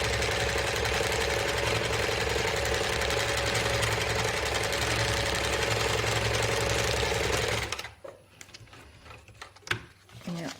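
A sewing machine runs steadily for about eight seconds while stitching a foundation paper-pieced triangle, loud and close, then stops abruptly, leaving faint handling noises.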